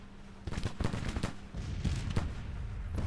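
Musket volleys from a brigade in a Civil War strategy game crackle in a few ragged bursts, fairly faint and distant, with no talking over them.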